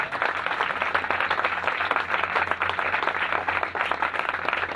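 Audience applause during a Father's Day sermon, a steady dense patter of many hands clapping at once, loud and continuous throughout with no speech over it.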